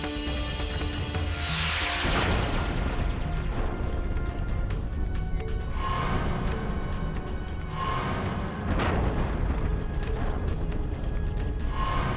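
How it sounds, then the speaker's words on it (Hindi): A cluster of explosion effects fills a devotional drama scene. A loud crash with a falling whoosh is followed by rolling booms and more blasts, all dense and forceful, with no voices over them. "अरे ये विस्फोट कैसा?"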